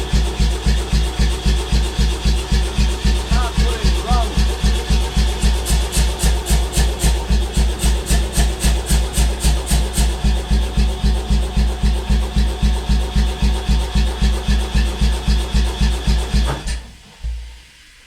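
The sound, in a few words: 60kg air hammer being started and running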